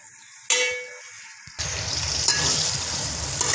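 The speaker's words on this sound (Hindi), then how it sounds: "देखें प्याज ब्राउन कर रहे हैं, अभी और टाइम लगेगा।" Onions browning in a pan for chicken pulao, a short clatter and fading hiss, then a loud, steady frying sizzle with faint stirring.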